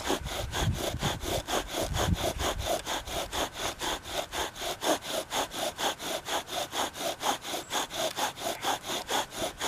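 Bow drill spindle grinding into a wooden fireboard and handhold, a rapid, even back-and-forth rasp repeating about three times a second, close and steady with no talk.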